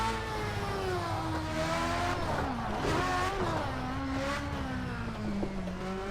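Formula race car in a racing video game, engine droning with shifting pitch as the driver lightly locks up the tyres to warm them, a steady close-up mechanical whine with faint tyre scrub throughout.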